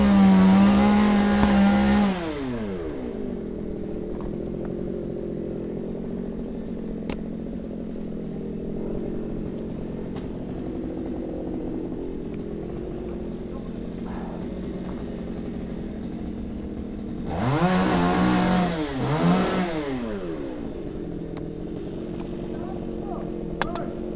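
A chainsaw cuts a hazardous pine tree, its loud engine whine revving at the start and again near the end, with a steady lower drone between as people talk nearby.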